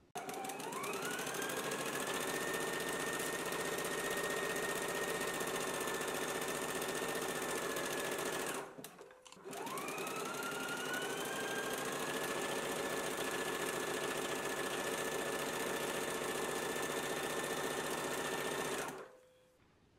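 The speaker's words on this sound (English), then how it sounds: "Let's go ahead and stitch it in place now." A sewing machine stitches lining along a garment neckline in two long, loud, steady runs, its motor whine rising at each start, with a brief stop between runs and no talking.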